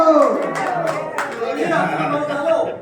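Senior citizens clap together at a Holi celebration, a dense, close patter of applause blended with voices and chatter throughout.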